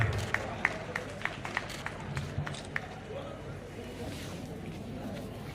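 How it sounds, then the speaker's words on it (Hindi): Audience applause at a felicitation event, a steady patter of clapping hands from a crowd, fairly distant, with crowd murmur underneath. "एक बार जोरदार तालियां"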